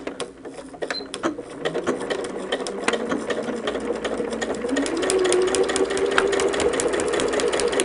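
A sewing machine overstitches into the seam allowance of a quilt block, running continuously and close with a steady rapid needle clatter throughout, no voices.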